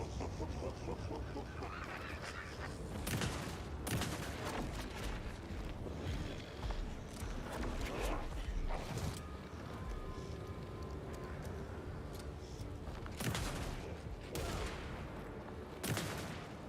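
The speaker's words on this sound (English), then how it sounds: "Stop shooting me." Gunfire in the video game Alan Wake 2, with shotgun blasts and scattered shots bursting irregularly over a dense, rumbling in-game backdrop, with several sharp cracks spaced through the scene.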